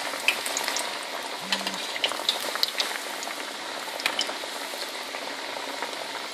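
Fenugreek leaves frying in hot oil over low heat, a continuous bubbling sizzle with scattered crackles and pops, close and moderately quiet, no talking.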